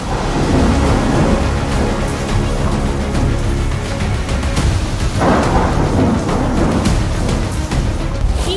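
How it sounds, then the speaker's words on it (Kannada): Heavy, unrelenting monsoon rain in North Karnataka, around Kalaburagi and Bidar, pours down in a dense, loud hiss while deep thunder rumbles and rolls beneath it throughout. "ಉತ್ತರ ಕರ್ನಾಟಕದಲ್ಲಿ ಬಿಟ್ಟು ಬಿಡದೆ ಮಳೆ ಆಗ್ತಾ ಇದ್ದು"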